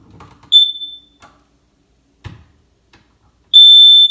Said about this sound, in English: simply test that smoke alarm